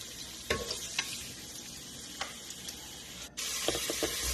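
Garlic and onion frying in hot cooking oil, a steady close sizzle with a few stirring scrapes and a sudden louder hiss as more goes into the pan near the end.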